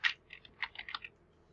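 Fingers type on a computer keyboard, a quick light run of about eight close key clicks in uneven rhythm that then stops, with no talk.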